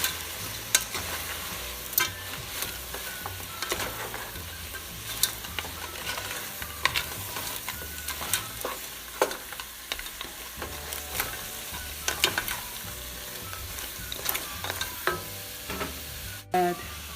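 Crab curry with added curry powder and chili powder frying and being stirred in a pan: a steady sizzle under repeated sharp spoon scrapes and clinks at an irregular pace throughout, with no speech.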